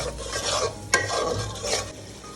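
Malabar spinach with shrimp and chili is stir-fried in a pan, a soft continuous sizzle broken by a sharp spatula scrape near the middle, close and moderately quiet with no talking.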